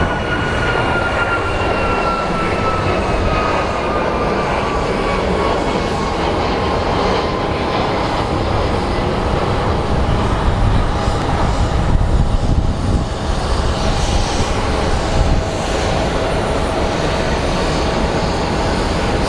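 A Boeing 737 Max jet at Phoenix Sky Harbor airport gives off a loud, steady roar with a slowly falling whine that holds for the whole stretch, with no talk.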